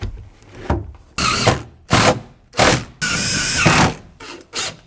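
Screws being driven with a power drill through pre-drilled holes in Purple Heart trim over tongue-and-groove fir paneling with steel backing inside a van: several close, loud whirring bursts, each a second or less, separated by short pauses.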